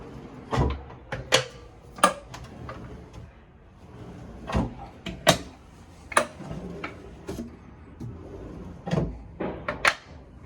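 Drawers and cupboard doors with solid latches in a 2023 Latitude Cobalt 26 motorhome are opened and shut, giving a series of sharp close-up knocks, clicks and thuds at irregular intervals with no talking.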